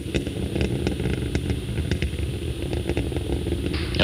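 Space Shuttle Atlantis main engines roar during launch ascent on STS-43, a steady, dense, crackling rumble that holds at an even loudness throughout.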